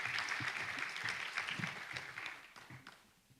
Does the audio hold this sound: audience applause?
yes